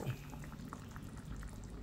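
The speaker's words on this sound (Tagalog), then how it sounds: "At kumukulo na po." Chicken soup with hotdog bubbles and simmers in a pot, a soft continuous gurgle with scattered small pops.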